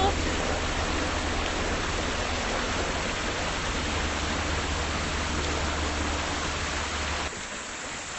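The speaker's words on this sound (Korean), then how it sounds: "폭포." A waterfall by a mountain valley stream on a hiking trail pours as a steady, loud broadband rush that fills the whole stretch, dropping slightly in level near the end.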